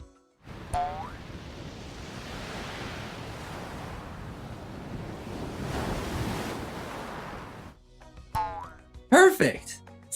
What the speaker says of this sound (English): We'll hear the sea.